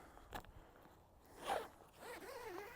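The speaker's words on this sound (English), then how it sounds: "I believe I got a zipper here." A zipper is drawn along the fabric of a large 360-view ground blind tent, giving a short scratchy zip in the middle and then a longer, wavering pull, all quiet and close with no talking.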